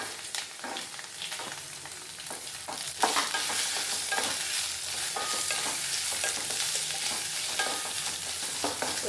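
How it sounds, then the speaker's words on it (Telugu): Capsicum pieces frying and being stirred in a pan with ginger-garlic paste for an aloo capsicum fry. A steady loud sizzle runs throughout, with stirring scrapes that grow busier partway through. "ఈ టైంలో క్యాప్సికమ్ ముక్కలు వేసేద్దాం"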